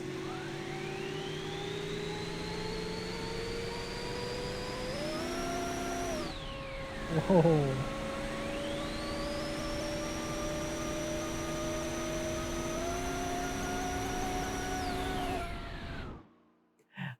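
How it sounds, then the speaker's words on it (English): A turbocharged car engine revving in long sustained pulls, its whine climbing and holding high before dropping, with a short exclamation from a voice partway through and a sudden cut-off near the end. "I love the turbo noise."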